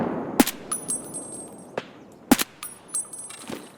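Gunfire in the Escape From Tarkov video game: two sharp, loud shots about two seconds apart, each followed by a ringing metallic tail and fainter clicks.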